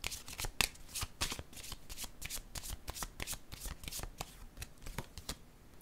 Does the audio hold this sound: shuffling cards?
yes